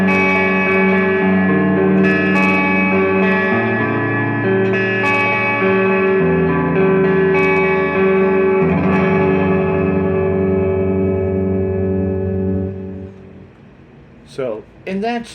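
A Leo Jaymes Monsoon electric guitar played through an amp, sustained chords ringing with reverb and echo, loud and close, fading out with a few brief plucked notes at the end.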